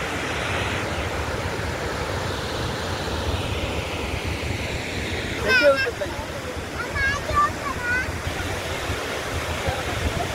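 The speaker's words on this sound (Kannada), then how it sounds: "ಇಷ್ಟು ಹೀಗೆ ನೀರು ರಟ್ಟುತ್ತದೆ ಅಂತ ಗೊತ್ತಿರಲಿಲ್ಲ ನಮಗೆ" A waterfall pours and splashes heavily at a scenic spot on the road from Dirang to Tawang, a steady broadband roar filling the scene with brief bursts of chirping sounds partway through.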